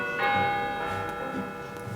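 A bell or clock chimes, one strong ringing strike that hums with layered tones and fades slowly while it sustains over about two seconds, with no talk.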